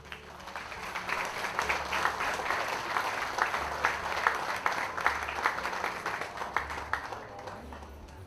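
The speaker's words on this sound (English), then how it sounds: "One nice round of applause for everybody up here." A crowd applauds at the grand opening ceremony for Skyline Segment 2, steady clapping lasting several seconds, moderately loud with sharp individual claps standing out, and no speech over it.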